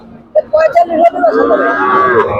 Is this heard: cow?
yes